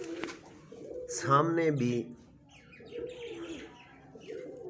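Pigeons in a breeding loft give soft, low cooing calls in short phrases, heard beneath someone speaking nearby.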